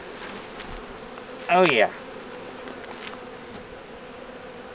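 Honey bees buzz steadily around an opened hive during a cool-weather inspection, a constant close drone that runs under a brief spoken exclamation.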